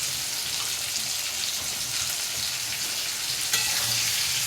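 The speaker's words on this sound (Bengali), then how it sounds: "বিনসগুলো একসাথে আমি ভেজে তুলে নেব।" Green beans frying in a pan for khichuri, a dense, continuous close sizzle with faint stirring scrapes and a brief sharper burst near the end.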